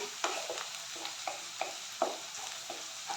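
Onions fry for paneer biryani, sizzling gently in a pan as a spoon stirs them with light rhythmic taps and scrapes several times a second, close up and with nobody talking.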